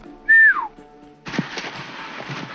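A park ranger whistles a loud elk call, imitating the animal with one high, sliding tone that drops off. A rough burst of broadband noise follows after a short pause.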